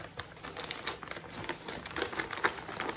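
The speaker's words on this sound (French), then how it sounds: "J'ai très mal ouvert le papier" Paper wrapping torn and crinkled open from a book indoors, a steady run of close rustling and ripping bursts for about three seconds with no talk.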